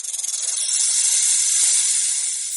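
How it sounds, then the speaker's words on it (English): Snake hissing in a steady, sustained breathy hiss that holds close and loud for a couple of seconds without a break. "snake"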